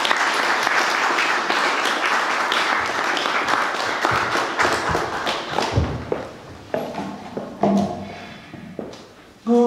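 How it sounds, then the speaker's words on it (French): Audience applause at an award ceremony for a rumba musician in Brussels: loud, sustained clapping from a close crowd that thins into scattered individual claps toward the end. "Sous vos applaudissements, s'il vous plaît."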